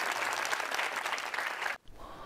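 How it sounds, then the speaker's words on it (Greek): Studio audience applause on a TV game show, dense clapping that cuts off abruptly near the end, followed by a moment of quiet room sound. "Και ένα χειροκρότημα, παρακαλώ."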